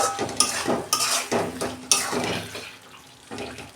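A lid lifted off a pot of simmering potatoes and greens, with metallic clinks and clatter near the start and close kitchen rattling and scraping after it.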